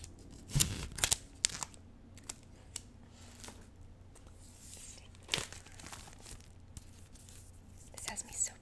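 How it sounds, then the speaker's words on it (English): Scissors snip through a paper nutrition guide in a close-up ASMR fitness session: a few crisp cuts and crinkles early on, then sparser soft snips, with quiet whispering around them. "I'm gonna use my scissors again."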